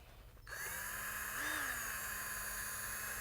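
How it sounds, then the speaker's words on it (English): A variable speed power drill whirs steadily while mixing a larger batch of metallic epoxy floor coating at low to mid speed; the motor starts abruptly, then holds a constant drone with a brief pitch rise midway, close and loud with no talking. "On a little bit larger batches, we're going to go ahead and use a variable speed drill."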